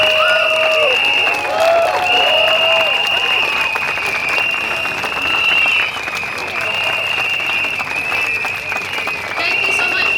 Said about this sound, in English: A big round of applause to all our speakers tonight